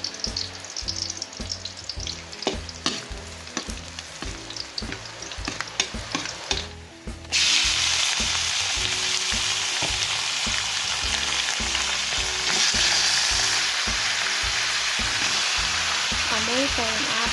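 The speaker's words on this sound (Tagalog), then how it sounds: "magluluto tayo ng adubong manok" Chicken marinated in pineapple juice sizzles steadily in a pan for chicken adobo, with intermittent stirring clatter first, then a loud, dense, continuous frying hiss.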